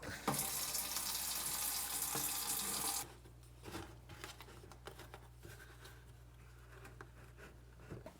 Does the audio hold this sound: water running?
yes